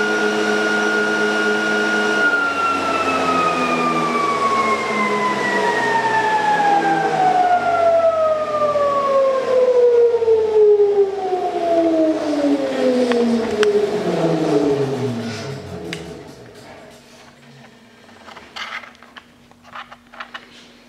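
A ReGenX salient-pole ebike hub motor runs near 3575 RPM in regenerative acceleration mode, its loud, steady electric whine holding briefly before gliding smoothly downward in pitch as it winds down to a faint low hum.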